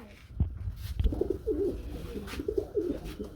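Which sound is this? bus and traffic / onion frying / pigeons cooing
pigeons cooing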